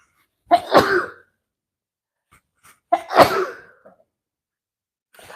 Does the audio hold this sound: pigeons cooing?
no